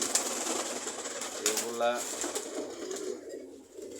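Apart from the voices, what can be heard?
pigeons cooing at a pigeon farm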